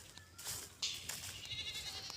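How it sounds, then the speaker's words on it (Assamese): Goats and sheep bleat faintly in an open reserve area behind a temple, a few short distant calls over soft outdoor background noise. "এইফালে এয়া ভেড়া ছাগলী আছে।"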